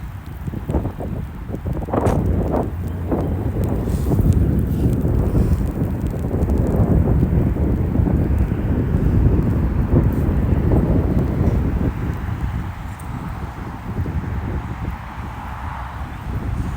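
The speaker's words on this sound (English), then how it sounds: "there's strong winds today, so the drone might struggle" Strong wind buffeting the microphone during a DJI Mini 3 Pro drone flight on a rainy February day, a loud continuous rumbling roar with gusty surges and no voices.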